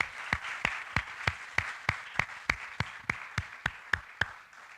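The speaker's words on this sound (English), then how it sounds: "A big round of applause for our panel." Hands clap in a steady, evenly spaced rhythm, about a dozen sharp claps from a nearby source at a panel session of an exhibition event, rather than a dense crowd ovation, fading slightly at the end.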